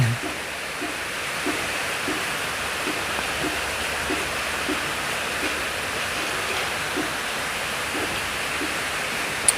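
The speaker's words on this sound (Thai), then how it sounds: "ฝนจะตกแรงไหม" Steady rain falling outdoors during a cooking session, a continuous broadband hiss at even loudness throughout with faint low knocks beneath.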